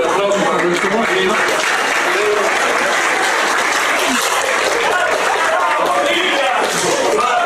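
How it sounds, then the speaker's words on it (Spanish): A studio audience bursts into loud, sustained applause for a guest on a Peruvian political talk show, a dense wall of clapping holding steady for several seconds. "Por el aplauso para nuestro compañero."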